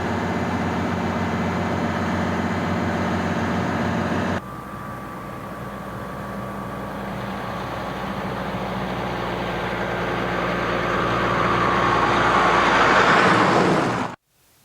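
Kenworth trucks drive off in the Von Valley with a steady, loud diesel engine drone that rises gradually as a truck pulls away, then cuts off abruptly at the end.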